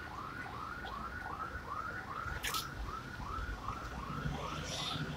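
A car alarm sounding, a rapid repeating whooping tone cycling in a steady rhythm at moderate distance, with a brief sharp noise burst midway.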